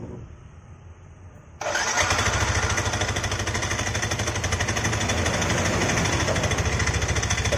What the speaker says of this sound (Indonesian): Jadi di sini bunyi kasar. Oke, coba kita nyalain ya motornya.